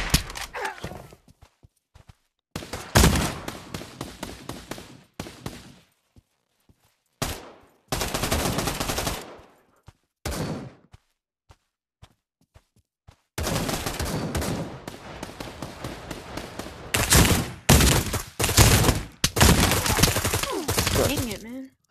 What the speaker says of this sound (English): He shot me right through the wall.